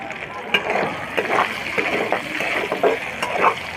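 Chopped onion hits hot oil left over from frying potatoes and eggs, giving off an irregular crackling sizzle with spitting bursts, moderately loud and close, with a voice faintly present.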